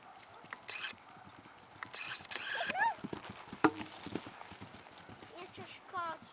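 Horse moving around a small home jumping course, with hoof clip-clops, a snort or whinny and scattered thuds, fairly faint, with people talking nearby.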